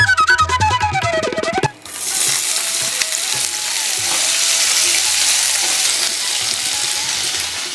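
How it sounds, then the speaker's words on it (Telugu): A short burst of music gives way to a loud, dense sizzle as ivy gourd pieces hit hot oil in a pan. The frying holds steady and close for several seconds, with no talking. "ఇప్పుడు ఇదే బాండీలో నూనె వేసి నేను దొండకాయలు వేయించేసుకుంటాను."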